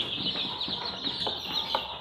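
Village chickens cluck in a flock after vaccination, with repeated short clucks and calls scattered over a constant high chirping background, close and busy.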